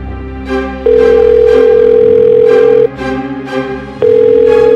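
A phone ringback tone repeats, long steady beeps separated by pauses, sounding clearly through a handset while music plays underneath.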